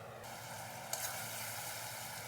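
Rajma (kidney beans) sautéing in spice masala in a pan, giving a soft, steady sizzle with a faint stirring scrape near the middle. It is quiet and continuous, and no one talks.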